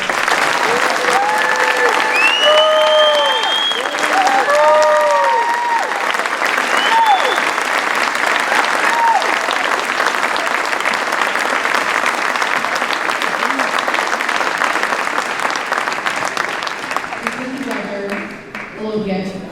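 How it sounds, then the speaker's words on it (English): Concert audience applauding at a middle school eighth grade spring concert, a long, steady wash of clapping from a large crowd with scattered whoops, continuing loudly before tapering near the end. "if you could give him a round of applause"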